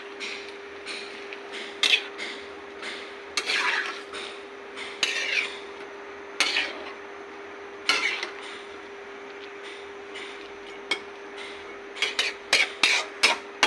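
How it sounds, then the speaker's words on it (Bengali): Rohu fish head cooked with pepuli greens and potatoes is stirred in a metal pot, giving repeated scraping and clinking of a utensil against the pot over a steady low hum, with sharper clatters toward the end. "দেখেন এবার আমি নাড়াচাড়া করে দিচ্ছি।"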